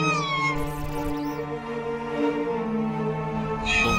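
A cat in The Last Door video game lets out one long, drawn-out meow with a rising and falling pitch, loud and close, with nothing else heard.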